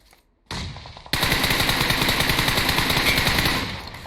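In PUBG Mobile, a burst of automatic gunfire opens, then a sustained rapid volley of shots rattles on loudly before easing slightly near the end.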